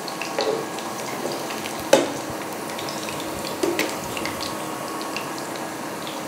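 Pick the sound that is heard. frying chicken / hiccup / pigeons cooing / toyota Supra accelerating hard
frying chicken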